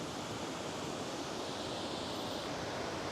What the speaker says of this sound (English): But the sound of water